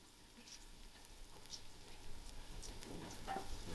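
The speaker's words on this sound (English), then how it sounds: "allow this to fry till it's slightly brown" Onions fry in a pan over an outdoor wood fire, a faint, steady crackling sizzle that runs throughout with no talk over it.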